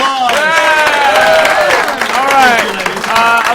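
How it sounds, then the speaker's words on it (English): Studio audience applause for two guests on a talk show: loud, continuous clapping with excited whooping and cheering voices riding over it for a few seconds. "Give them both a big round of applause"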